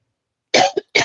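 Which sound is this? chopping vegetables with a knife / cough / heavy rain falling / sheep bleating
cough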